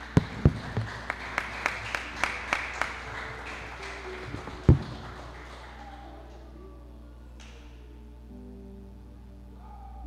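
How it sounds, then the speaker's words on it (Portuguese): A short run of rhythmic hand claps from a church congregation during a service, fairly soft and fading out, followed by a quiet room with a low hum. "as palmas louvam o nome do Senhor Jesus"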